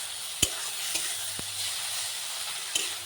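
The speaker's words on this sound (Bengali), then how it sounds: "দিয়ে আদা রসুনের সঙ্গে আমি ভালো করে মিশিয়ে নেব।" Spices being stirred with ginger-garlic paste in a pan while making a Bengali fish curry, with a steady soft sizzle and a few sharp scraping knocks of the spoon against the pan, no voices.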